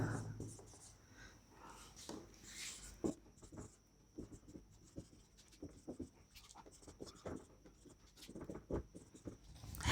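Pen or marker writing on a surface during a physics lesson, a faint, close run of short scratchy strokes and taps in an irregular rhythm, with no one speaking.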